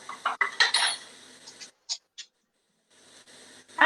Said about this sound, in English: I'm just gonna roughly chop it